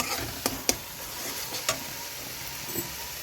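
Masala paste for chicken patiala fries in oil over lowered heat, a continuous soft sizzle broken by a few sharp spoon clicks as it is stirred.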